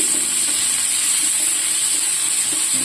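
Onions and a green chili sizzle in hot oil in a pan, cooking for a Ponnaganti leaf fry. The hiss is steady and close, with small crackles and no voices.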